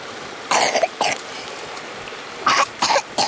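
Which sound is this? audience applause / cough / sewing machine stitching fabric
cough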